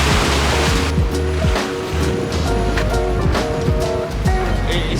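Rough Mediterranean sea waves wash and surge continuously around a sailing boat in winter, a loud, dense rush of water with splashes and thumps against the hull.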